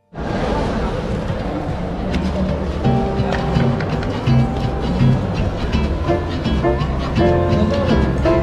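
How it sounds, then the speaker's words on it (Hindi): A passenger train rolls into Tashkent South railway station in Uzbekistan with a steady rumble and rhythmic wheel clatter, fairly loud and close, while someone talks over it. "ट्रेन आ रही है तो फिर देखते हैं।"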